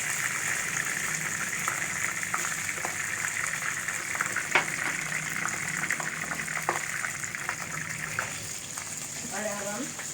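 Curry leaves and cumin hit hot oil with browned onions in a pan of whole black masoor dal, giving a steady sizzling hiss throughout with a few sharper crackles near the middle and soft clinks near the end, under faint talk.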